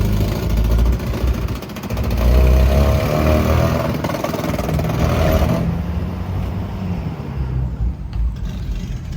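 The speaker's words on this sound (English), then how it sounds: "We're finally able to get the car started and running." Engine of a 1996 Mazda Miata running, a loud close continuous idle rumble that swells early on and then settles into a steadier drone, no talking.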